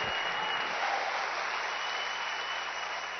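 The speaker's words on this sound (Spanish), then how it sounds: "Démosle palmas al Señor." A church congregation claps for the Lord, dense sustained applause that fills the room evenly and loudly, with no pauses.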